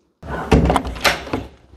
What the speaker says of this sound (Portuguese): Aí essa foi a porta